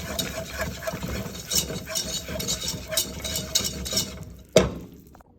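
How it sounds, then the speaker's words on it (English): A whisk beats butter into pumpkin pie filling in a bowl, with rapid rhythmic scraping strokes and clinks, close and steady, ending in one sharp knock against the bowl before going quiet. "We add butter 1 tablespoon at a time, and then incorporating."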